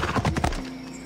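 Horse hooves clip-clop in Assassin's Creed Odyssey, a short run of quick, close hoofbeats that fades into a brief tonal hum.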